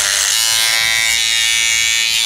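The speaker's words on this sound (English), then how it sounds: "Great clipper. Great clipper. So still green tag, run strong." Freshly sharpened barber clippers run with a loud, steady electric buzz, close up and unbroken throughout.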